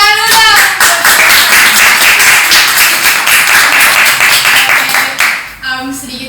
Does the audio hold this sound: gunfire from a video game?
no